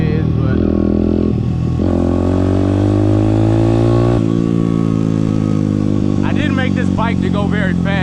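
A Honda XR100 stunt supermoto motorcycle engine runs loud and close, holding a steady idle before a rise in revs and a brief clattering pickup, with no talk over it.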